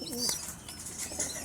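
Racing pigeons stir and flutter inside a small 15 by 24 cage, with soft wing flaps and faint coos and chirps, close and moderately quiet.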